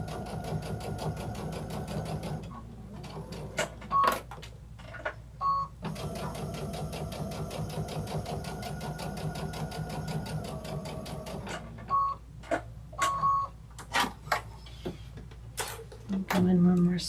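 A sewing machine runs in long steady bursts of stitching while sewing petit fours, with short pauses, brief higher beeps and light handling noises between runs.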